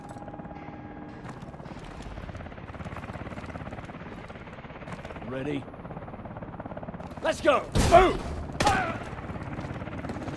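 Helicopter in the Call of Duty: Advanced Warfare video game, a steady low rotor drone throughout with bursts of gunfire and sharp impacts near the end, while voices shout over it.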